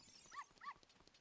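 Small white dog in the video game Ocarina of Time gives two quick, faint yips about a third of a second apart, with a soft tonal game backdrop behind them.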